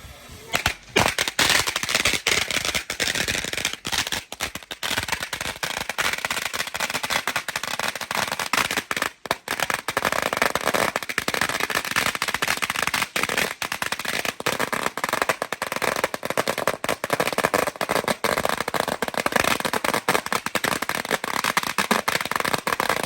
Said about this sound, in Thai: ปังปังปังปังเหมือนเสียงประทัดนี่แหละ